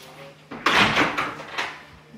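A front door opens in a house with a thump and a clatter of handle and frame, followed by a few softer knocks and rattles, fairly close and loud.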